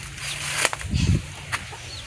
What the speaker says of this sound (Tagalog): Yung kawawa ng mga manok.